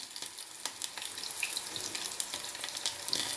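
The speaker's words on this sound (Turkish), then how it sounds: "bunu çabuk kızartayım" Stuffed-potato shells fry in hot oil with a close, steady crackling sizzle and scattered sharper pops for a few seconds.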